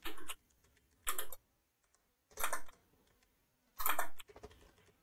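A username is typed on a computer keyboard in four separate quick bursts of clicking keystrokes, each about a quarter second long, with near silence between them and no talking.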